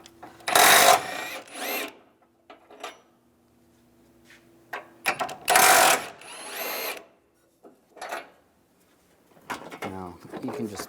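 A power tool with a 21mm socket removes bumper bolts on a 2007-2013 Chevrolet Silverado truck, giving two loud, close whirring bursts, one of them ending around six seconds, with softer clanks and a voice between them.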